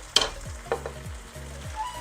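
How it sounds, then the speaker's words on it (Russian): Potatoes frying with bacon in a pan, soft sizzling with a few short stirring scrapes and clatters, close and quiet, no talking. "пока наша картошка жарится"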